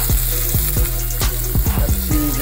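Stuffed steak rolls with spinach, provolone cheese, onions, garlic and mushrooms frying in a skillet, giving a close, loud sizzle broken by repeated short scraping strokes.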